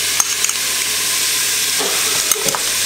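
Meat and tomato paste frying loudly in a pan for a carbonnade, a dense continuous sizzle with a few sharp stirring clicks and scrapes near the start and end.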